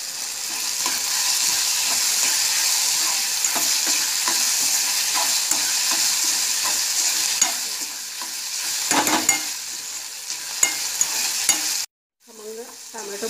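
Tomato fries in hot oil with a pinch of asafoetida for masala upma, a steady close sizzle with scraping stirs throughout, a brief pause near the end before the frying resumes.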